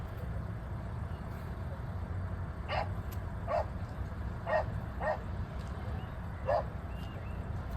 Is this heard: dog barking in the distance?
yes